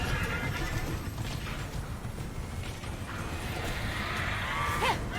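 A horse neighs in the video game Immortals Fenyx Rising, a clear whinny near the end over steady game ambience and hooves, with no speech in the clip.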